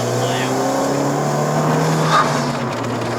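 Honda Civic Type R FK2 with a K20C1 turbocharged engine revving hard under acceleration on a test drive in Malaysia, a loud steady engine drone rising in pitch as the throttle opens, with a brief louder burst near the end.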